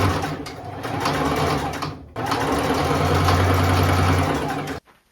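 A sewing machine hems the opening of a skirt with a loud, steady, close whirring run. It pauses briefly, starts again and then stops abruptly near the end.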